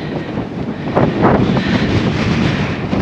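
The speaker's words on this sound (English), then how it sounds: "feel that wind." Strong, steady wind buffets the microphone at a hilltop lookout on the Nut near Stanley, Tasmania, a constant loud roar with gusts swelling about a second in and no speech.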